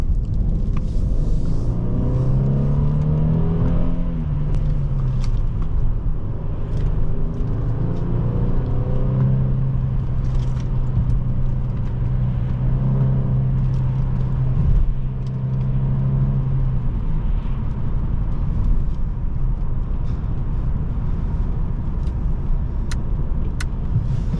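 A 2015 Mercedes-Benz E350 4MATIC driving on the road, its engine holding a steady low hum that rises and falls with throttle, with smooth tyre and road rumble throughout and no talking.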